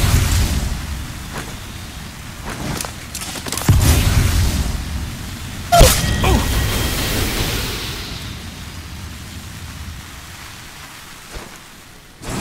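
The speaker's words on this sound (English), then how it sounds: "Throwing thermite grenade." Thermite grenade thrown and burning in Apex Legends Mobile, a crackling, rushing fire hiss with a few sharp bursts, loud at first and fading away.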